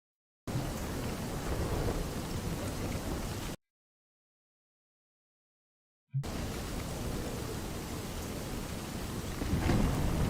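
Steady heavy rainfall with rumbling thunder in the Dark Souls Archthrones demo, a dense continuous wash of rain that cuts out briefly and returns, swelling louder near the end with no voices.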